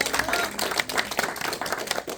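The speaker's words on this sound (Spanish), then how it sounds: "¿No le dan un aplauso a usted al Señor por eso?" A church congregation breaks into a short burst of hand clapping, a busy, fairly loud patter of many hands that lasts about two seconds.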